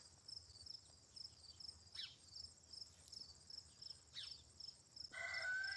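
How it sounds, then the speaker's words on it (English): Roosters crow in the distance, two or three faint drawn-out calls rising over a steady, shrill chorus of crickets, with no talking. "The roosters are going nuts today."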